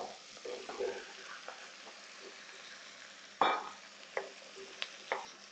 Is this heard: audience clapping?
no